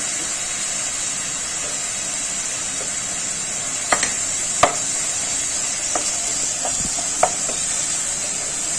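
Torn green chillies dropped into frying fish masala for a Bengali fish curry, giving a steady oily sizzle with a few sharp spoon clinks and taps against the pan.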